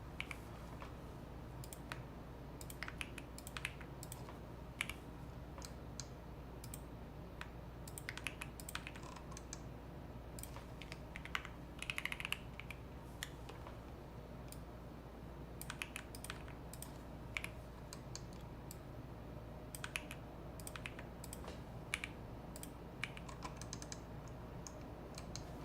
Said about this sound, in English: I feel this is a whole lot of typing.